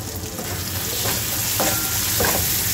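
Egg bhurji being stir-fried in a pan with salt and coriander, a steady close sizzle with a few scraping stirs of the spatula, no voices.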